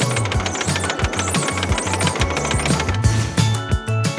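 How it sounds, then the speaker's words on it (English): A conveyor belt running on a carrot harvester makes a loud, fast, regular mechanical clatter, a steady stream of rattling knocks and thumps repeating several times a second throughout, close and continuous without any voices. "Did you hear the sound the conveyor belt made on the harvester?"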